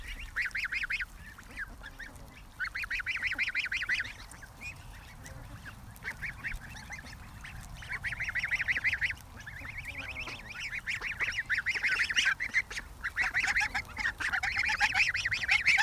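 Close-up geese honk in repeated bursts alongside quacking ducks on a lawn, calls coming in clustered waves with brief lulls between them.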